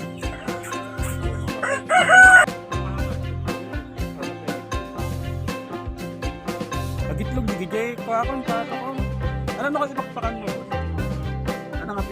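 A rooster crows loudly once nearby, rising above a backdrop of steady rhythmic music that continues throughout.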